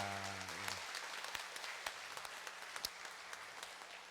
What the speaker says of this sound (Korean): 우리 오케스트라와 성가대 한번 박수로 한번 격려해 주시기 바랍니다